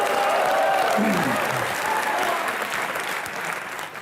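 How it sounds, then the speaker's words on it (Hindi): Loud, sustained applause from a television comedy show's studio audience greets a guest, with a brief voice sounding through the clapping before it gradually eases toward the end. "एक बार जोरदार तालियां रजत सर के लिए।"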